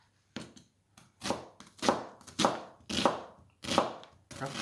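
A knife chops half an onion into rough pieces on a board, six or seven loud, close thuds in an uneven rhythm with brief pauses between them and no talking.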